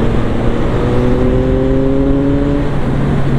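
A CF Moto 675 NK three-cylinder motorcycle engine climbs steadily in pitch as it accelerates, a smooth rising whine over constant wind rush, loud and close.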